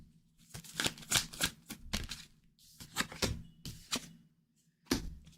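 Tarot cards are shuffled and handled close by in a quiet room, with a series of crisp riffling bursts and soft slaps separated by short pauses.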